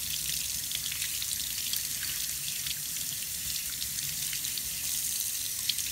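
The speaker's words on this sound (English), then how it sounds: "as we turn the water on there, and we watch" Water runs steadily from a tap into a sink as hands are rinsed under it to wash off chocolate syrup, a continuous close, even splashing hiss with no talk.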